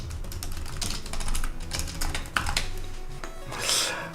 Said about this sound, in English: I know what you're typing, Becca, but that's okay